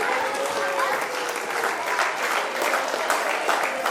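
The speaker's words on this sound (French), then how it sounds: "Ça s'applaudit, mesdames et messieurs" An indoor audience at an anniversary celebration applauds in a dense, continuous wash of clapping that holds steady for several seconds.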